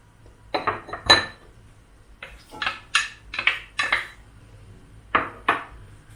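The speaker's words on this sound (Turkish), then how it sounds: "İlk önce bunları karıştıracağım." Spoon clinks and scrapes against a bowl while salad ingredients are mixed, in close irregular bursts of clatter with short pauses between them.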